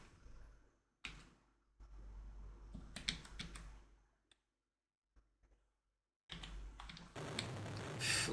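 Typing on a computer keyboard in short bursts of rapid clicks, separated by near-silent pauses, with a louder, denser flurry of keystrokes at the end.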